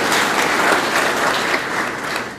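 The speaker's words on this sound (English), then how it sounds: "let's give her a round of applause on doing well" Audience applause at an FFA banquet, dense sustained clapping from a roomful of people with no voices over it, holding strong before tapering slightly near the end.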